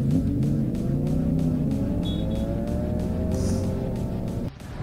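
Yamaha R1 sport motorcycle engine running steadily and loud throughout, with harmonic engine tones rising and falling slightly as it revs, then dropping sharply near the end.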